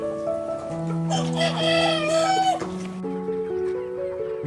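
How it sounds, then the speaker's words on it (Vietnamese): A flock of 80-day-old adult farm chickens with a rooster crowing loudly and close, the long crow carried over steady clucking and murmuring from the rest of the birds on an early dewy morning. "Và đây là đàn gà trưởng thành của tôi, hôm nay chúng được 80 ngày tuổi."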